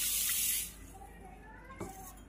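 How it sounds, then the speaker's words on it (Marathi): A cup of water pours into a pot for sugar syrup, a bright hissing splash for about half a second, then settles into quieter room sound with a faint knock near the end. "तर 1 कप पाणी घालूया।"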